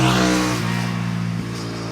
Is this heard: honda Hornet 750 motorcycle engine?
yes